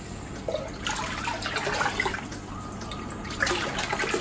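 Water carrying coral food is poured into a reef aquarium tank, making a continuous splashing, bubbling pour with small gurgles near the microphone.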